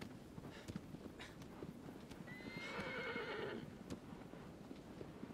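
A horse in the video game Shadow of the Colossus whinnies loudly in the middle, surrounded by scattered clip-clop hoofbeats at a walking pace, with no talking.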